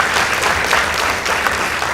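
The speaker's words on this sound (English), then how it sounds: "Give them a round of applause as well." Dense, loud crowd applause for high school debate teams at a contest final, a continuous wash of many hands clapping at once, steady throughout with no gaps.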